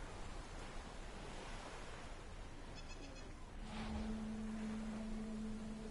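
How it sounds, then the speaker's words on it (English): Ocean surf in a PS4 golf game, a steady broad wash of waves with a swelling rush midway and a faint tonal hum near the end. "The waves."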